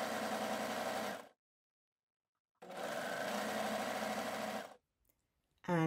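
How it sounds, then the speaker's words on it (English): Overlock sewing machine stitching the side seam of a blouse, running in two steady whirring bursts with a pause between, close and loud, then a brief start of another sound at the end. "And then start sewing up your side. You need to keep this out of the way of the overlock."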